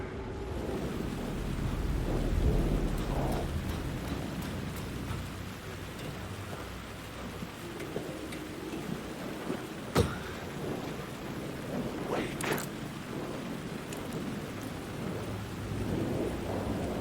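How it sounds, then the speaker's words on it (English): Steady rain falls throughout a stormy scene in the video game Alan Wake II, a broad continuous wash with a sharp thunder-like crack near the middle and occasional louder gusts, with no voices. "The rain never stopped falling."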